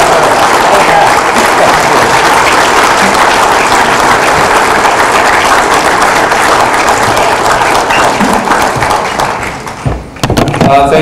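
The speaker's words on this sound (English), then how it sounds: "why don't we all stand up and applaud David?" Sustained, dense applause from a large audience fills the room, steady and loud throughout before tapering off near the end.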